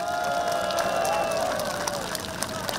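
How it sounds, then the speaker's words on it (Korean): A large outdoor crowd of about ten thousand applauds warmly for honored guests at a presidential statue unveiling ceremony at a provincial government complex, steady clapping washing under sustained tonal music. "이 영웅들에게 뜨거운 격려의 박수를 부탁드리겠습니다"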